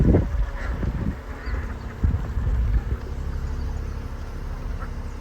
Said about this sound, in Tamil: இந்த வாத்தை ஒரு கை போட்டு வச்சுட்டு மொத்தமாக வளர்ப்பாங்கடா.